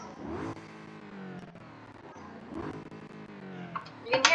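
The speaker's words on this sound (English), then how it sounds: "That's how the twin turbo V8 sounds." A twin-turbo V8 SUV engine revs repeatedly in the BeamNG driving game, its pitch climbing and falling across several pulls, with a burst of higher-pitched turbo sound at the end.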